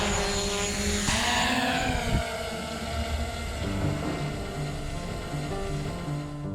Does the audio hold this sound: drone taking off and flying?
yes